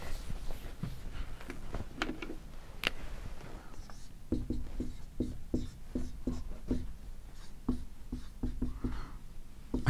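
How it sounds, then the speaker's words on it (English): Chalk or marker scraping and tapping across a classroom board during a Marxian economics lecture, a run of short, sharp strokes and scrubs, fairly close and clear, with no talking. "let me just erase this, leave this on the, well, I mean, I'll just erase it and put it on again"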